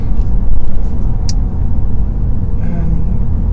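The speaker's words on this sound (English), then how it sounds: "a lot of complaints about the exhaust noise in this car. It's got that whole partly piped in sound going on." Exhaust note of a turbocharged front-wheel-drive car with partly piped-in engine sound, heard from inside while driving: a steady, loud low rumble throughout, with no talking.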